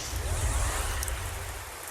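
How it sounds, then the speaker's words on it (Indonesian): Steady rain pours down without pause, a dense, even hiss with low rumbling beneath, loud and continuous throughout with no voices. "Hujan di sini akan lama."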